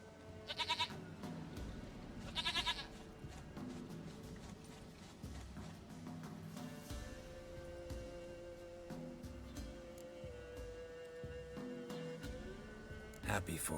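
A goat in The Witcher 3: Wild Hunt gives two short bleats near the start, with hoof-like clatter and background game music and ambience continuing underneath, followed by speech later in the scene.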